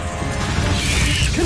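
A Bombarda spell blast in a Harry Potter-style video game: a dense, loud crashing burst with rumbling, mechanical clatter and a swishing edge that sustains throughout.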